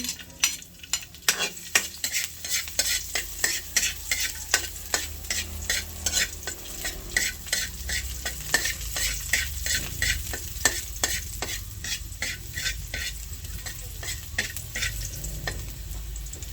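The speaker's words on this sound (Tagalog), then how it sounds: "Akin na po igigisa, maglalagay na po ako ng mantika. Ilalagay ko na po yung bawang." Garlic frying in hot cooking oil in a pan, a steady sizzle under a long run of quick, regular stirring and scraping strokes close by, with no talking.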